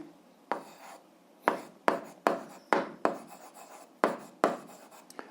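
Pen or marker writing out an algebra solution, a series of short scratchy strokes in irregular bursts, close and fairly quiet, with no talking.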